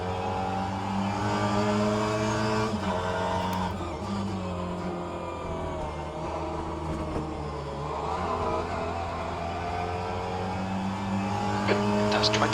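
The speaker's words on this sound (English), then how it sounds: "There's a car approaching." A Mini Cooper race car in rFactor 2 at Sebring Club circuit, engine droning steadily with shifting revs and brief tire squeal as another car closes in, with a radio voice speaking over it.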